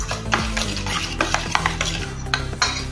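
A spoon stirs and mixes a dish with cardamom powder in a pan, scraping steadily over a constant sizzle, with occasional louder clinks against the pan.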